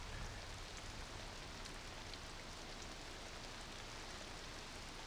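Rain in the video game Rift, a steady, faint, even hiss of falling drops with no break.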